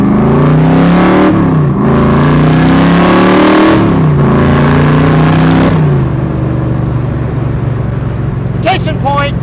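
A British Racing Green 1965 Backdraft Roadster RT4 revving hard, loud and close, its engine note climbing in repeated surges between gear changes before settling into a steady drone.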